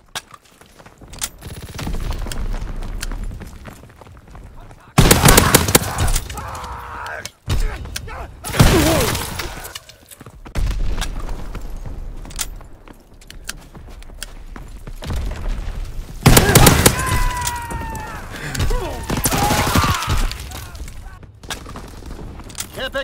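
Explosions and bursts of gunfire in Call of Duty WWII: sharp booms and rattling shots in repeated loud clusters, with game voice callouts between them.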